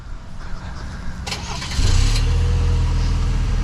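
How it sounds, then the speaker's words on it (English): A 2023 Chevrolet Colorado Z71 with a 4-cylinder engine is remote started: a brief cranking burst, then the engine catches and settles into a steady, close idle. "let's take a listen to this 4-cylinder because this does have remote start"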